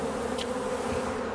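A dense, steady buzzing of a swarm of about 20,000 bees clustering with their queen fills the short clip, close and continuous, with no voices.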